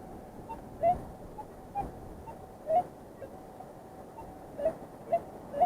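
A metal detector on a beach among rocks gives faint, short chirping beeps, scattered irregularly over quiet background hiss.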